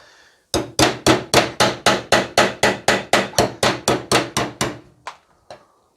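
Rapid hammer blows tapping a steel body panel on a 1972 MG Midget, about sixteen sharp metallic strikes in a steady even rhythm, close and loud, tailing off into two softer taps, with no talking.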